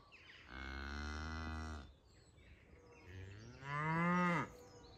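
Farm cows agitated by flies, two long loud moos in close succession, the second rising in pitch, with no talk.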